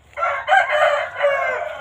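A six-month-old northern Thai rooster crows once, loud and close, in a long drawn-out call on a chicken farm, with no talk over it.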